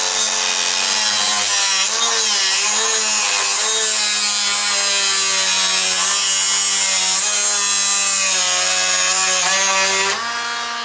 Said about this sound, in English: it's just a matter of a Dremel with a cutter on there. And all I'm going to do is just trim off the ends of these screws.